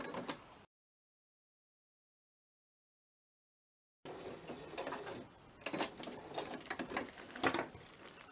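A sewing machine stitches a small handmade journal, running in a quiet, fast mechanical patter after a brief break of silence, close and soft with no talking.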